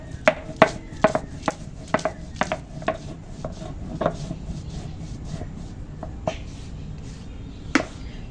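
Cooled, roasted whole spices pounded into powder for chicken chaap: about a dozen sharp, irregular knocks, close and fairly loud, thinning out toward the end, with no talking.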